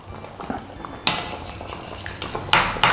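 Glutinous rice flour thickener is stirred into a pot of pata kare-kare, the spoon scraping and clinking against the pot with a couple of sharper metallic knocks.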